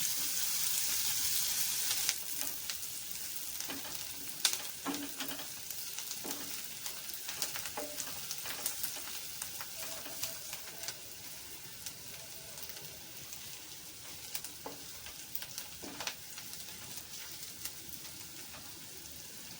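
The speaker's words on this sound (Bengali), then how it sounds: "এবার পেঁয়াজটা লাল লাল হয়ে ভাজা হয়ে গেছে" Chopped onions sizzle quietly in a pan as they brown for cabbage kofta curry, a faint even frying hiss broken by irregular taps and scrapes of a stirring spoon, with no talk.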